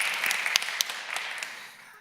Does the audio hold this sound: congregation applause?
yes